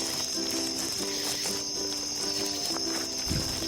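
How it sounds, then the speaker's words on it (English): Steady high insect chirring fills a forest on a ridge, a continuous shrill cricket drone running throughout at moderate level with faint lower tones beneath. "The crickets?"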